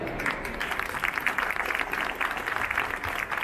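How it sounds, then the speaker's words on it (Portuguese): A crowd at a bakery trade fair session on croissants applauds a guest chef named Marcelo, a steady, dense round of clapping that holds at an even level throughout. "Primeiro vou aplaudir o Marcelo, pessoal."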